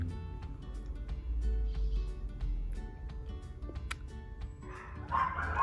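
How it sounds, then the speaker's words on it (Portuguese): Dogs yip and bark in short, scattered bursts at moderate distance, with a higher whimpering bark near the end over steady background noise. "Aí os meus cachorros resolvem latir bem na hora que eu tô gravando"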